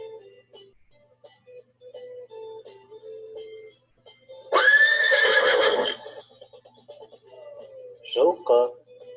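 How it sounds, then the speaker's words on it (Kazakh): A horse gives one loud, clear whinny lasting over a second in the middle. Quieter tonal sounds come before it, and short voiced bursts follow near the end. "Жылқы."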